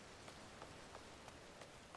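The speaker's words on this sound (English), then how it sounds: "it's raining on my head" Steady rain falling in the video game Final Fantasy XIV, a dense continuous hiss of drops with faint individual patters, heard alone and quiet.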